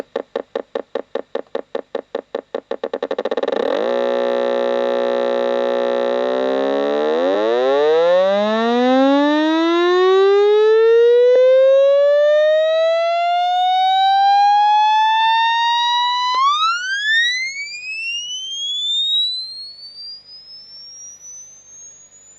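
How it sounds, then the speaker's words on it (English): A pure sine tone from a frequency generator pulses briefly, then holds and sweeps steadily upward in pitch with rich overtones, rising to a thin high whine before fading. "how to make a frequency hearing test generator"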